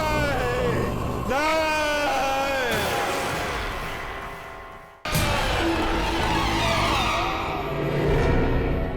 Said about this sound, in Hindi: अरे, ये तो डॉक्टर शुभम के चीखने की आवाज है, और ये मॉर्ग से आ रही है।